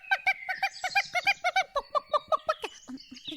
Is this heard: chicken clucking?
yes